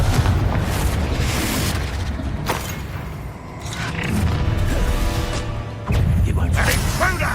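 A Confringo fire spell bursts in Hogwarts Legacy combat, with booming blasts at intervals over a dense rumbling background and raised character voices.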